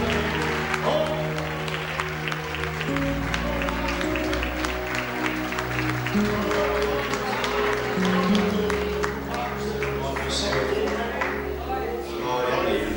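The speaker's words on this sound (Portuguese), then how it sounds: "Dá uma salva de palmas para o Senhor" Loud, sustained congregational clapping fills a church service, a dense crowd of hands beating steadily throughout with voices mixed in underneath.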